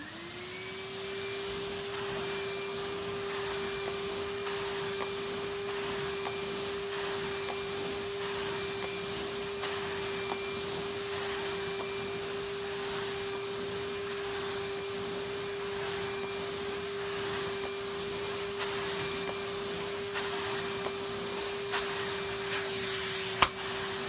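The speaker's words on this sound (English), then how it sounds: "Actually now trying to pick up the fur as if this was my only vacuum." A vacuum cleaner runs steadily and loud, whining throughout as it picks up a large mess of pet fur, with no talk.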